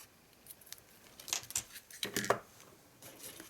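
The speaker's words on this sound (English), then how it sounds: "I've got this sequin trim which I really like, so I'm going to cut a bit of that off as well" Scissors snip through sequin trim for decorating an extra large gift box, a few quick close cuts with light rustling in between, no talking.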